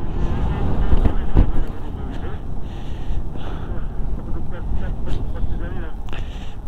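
Strong wind gusts roar steadily through a desert dust storm, a dense, blustery rush across the whole stretch, with people talking over it.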